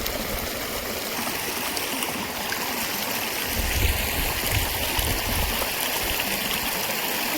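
Water rushing steadily from an open valve, a continuous hissing flow at moderate level with a slightly heavier gurgle midway.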